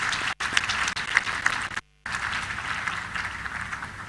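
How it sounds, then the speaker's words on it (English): An audience at an event claps together, a sustained wash of applause broken by two brief dropouts into silence before resuming at a steady level. "Please give yourselves a round of applause."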